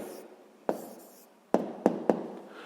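Pen or pencil writing down the answer to a sixth-grade math problem on paper, a soft continuous scratch broken by several sharp taps as strokes begin, close and quiet with no talk.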